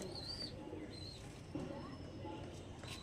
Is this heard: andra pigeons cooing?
yes